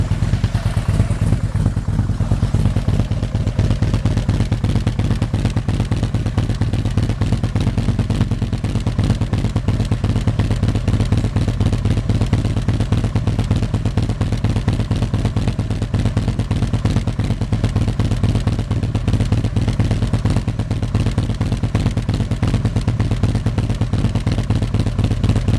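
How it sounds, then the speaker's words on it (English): A warmed-up motorcycle with aftermarket mufflers idles loudly and steadily up close, a deep throaty rumble with a rapid, even exhaust pulse that never lets up. "you'll get to see and hear what the mufflers sound like on a warmed up bike"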